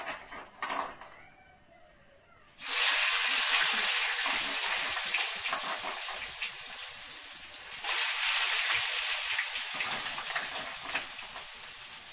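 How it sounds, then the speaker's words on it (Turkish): Loud, steady frying hiss fills the clip after a quiet start, dipping briefly then surging again, like potatoes bubbling in hot oil. "dedim patates kızartayım."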